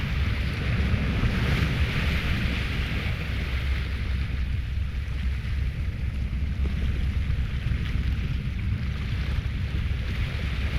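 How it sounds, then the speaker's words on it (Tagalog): Strong ocean waves wash and churn around a small fishing boat at sea, a steady broad roar mixed with wind, with no talking. "Lakas pa rin ng alon."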